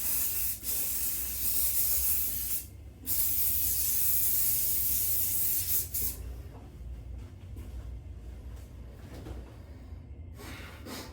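Hairspray comes out of an aerosol can in bursts of close, loud hissing, with a short pause between them, then fades to quieter room noise and a faint hiss.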